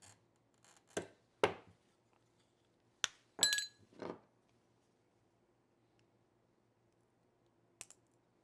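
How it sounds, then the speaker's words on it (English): White glass being scored and snapped for a home craft project, a handful of sharp clicks and crisp ticks spaced irregularly across a quiet room, with a faint late click near the end. "then we can go through and cut the white glass next"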